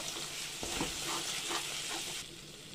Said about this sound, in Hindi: अब हम इसमें मटर का पेस्ट डालेंगे, जो हमने मटर का दरदरा पेस्ट बनाया था, और इसे डालकर हम भूनेंगे।